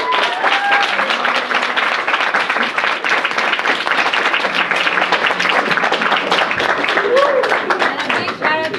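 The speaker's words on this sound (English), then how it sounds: "Let's give Lorena and Chantal a round of applause" Sustained applause and clapping from a student audience at a MEChA de Georgetown board election meeting, steady and dense throughout with a few cheers and voices mixed in.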